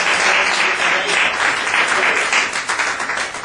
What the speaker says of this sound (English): let's give Bill a nice round of applause